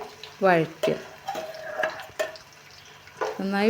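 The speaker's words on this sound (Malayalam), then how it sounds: "വഴറ്റി അത് ബ്രൗൺ കളറാവുന്നത് വരെ ഇളക്കുക." Sliced onions are stirred and sautéed in a pan with spices for a chicken stew, a spoon scraping and clinking against the pan over a soft sizzle, with a voice briefly heard.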